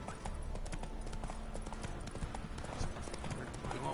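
Rapid hoofbeats as Roach the horse gallops in The Witcher 3, a steady close clip-clop rhythm running continuously with faint game ambience beneath.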